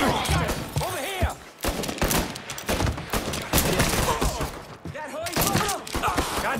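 Dense gunfire erupts in the Mafia III video game, rapid overlapping shots and bursts close by, with voices shouting in the middle of the firefight.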